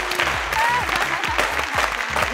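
A studio audience on a television game show claps steadily at a sponsor's prize presentation, a dense sustained applause mixed with a voice and low background sound.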